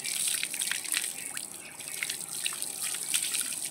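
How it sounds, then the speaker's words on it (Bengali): Water runs and drips while dyed hair is rinsed, a close bright trickle with irregular splashy drips over a steady flow, no voices. "এবারে মাথায় জল দিয়ে ধুয়ে নেবো।"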